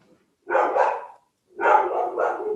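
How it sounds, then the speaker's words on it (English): Dogs bark in two separate bursts of rapid, overlapping barks, fairly close and loud, with brief silence between them. "Dogs are barking."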